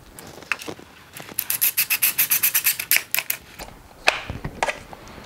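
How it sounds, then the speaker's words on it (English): A rapid run of rasping, ratcheting scrapes as screws are tightened to mount an EV charger on a wall, followed by a few scattered knocks and scrapes. "when you're tightening the middle screw"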